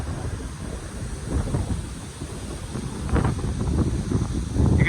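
Strong wind gusts of roughly 50 to 60 mph batter a house during a Labor Day windstorm, a steady, loud, broadband roar that swells and surges louder toward the end, with no voices.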